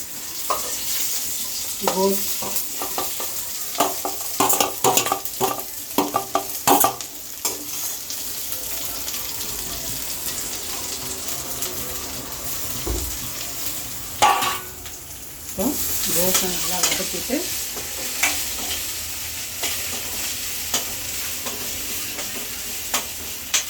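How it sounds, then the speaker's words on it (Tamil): Curry leaves sauté in a hot pan, a steady sizzle and crackle running throughout while a spatula stirs and scrapes in irregular bursts, with occasional clinks of the pan; close and moderately loud, with no talking. "போட்டு நல்லா வதக்கிட்டு கருவேப்பிலை"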